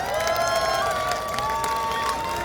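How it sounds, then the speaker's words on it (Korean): Outdoor crowd clapping and cheering steadily after a classical opera concert with orchestra and choirs. Tonal sustained sounds run under the applause. "박수 부탁드리겠습니다."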